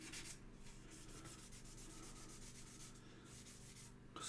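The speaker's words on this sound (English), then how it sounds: "Using me i20 1000 grits. Love these sanders." A 1000-grit sander rubs over a Hyundai i20 coupe WRC model car body in steady repeated back-and-forth strokes, soft and close, with no talking.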